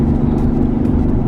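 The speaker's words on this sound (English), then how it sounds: "I'm not sure how well the exhaust pops up on the camera, but it's a stock exhaust" Alfa Romeo GT 3.2 with its stock exhaust, a steady, close, low engine drone with a deep burbling hum throughout, no voices.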